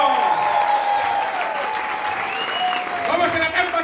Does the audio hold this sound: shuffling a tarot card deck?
no